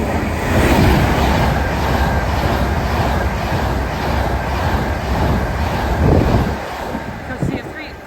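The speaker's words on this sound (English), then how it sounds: "the next train to make an appearance going at a very fast speed is going to be an Avanti West Coast Class 390 Pendolino" An Avanti West Coast Class 390 Pendolino rushes through Stechford station at high speed, a loud sustained roar with rhythmic wheel clatter and wind buffeting that fades away near the end, a voice talking over it.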